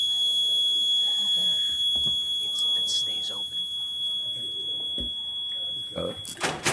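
A door alarm sounds as a steady high electronic tone because doors are held open in a Board of Supervisors meeting room, continuing under people talking with some clatter.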